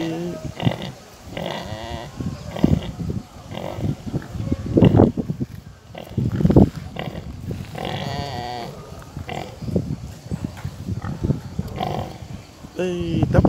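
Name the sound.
litter of piglets nursing and rooting around the sow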